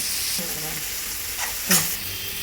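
Onions with a little salt sautéing in a pan, giving a steady close hiss of frying with a couple of brief stirring scrapes and one louder scrape near the end.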